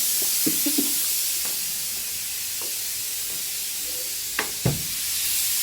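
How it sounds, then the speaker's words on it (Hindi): In a home kitchen, a pressure cooker whistle vents steam in a continuous loud hiss, with a few faint clinks of utensils underneath and no voices. "अभी सीटी आ रही है हमारी किचन में"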